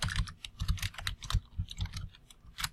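Someone types on a computer keyboard while working in VB.NET, producing a quick, irregular run of close, crisp key clicks with brief pauses and no voices.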